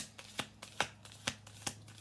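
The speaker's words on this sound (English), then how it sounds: "I'll do one more shuffle" A deck of tarot cards is shuffled by hand in a quiet room: a series of five or six crisp riffling bursts in a loose, even rhythm, close and clear with no talking.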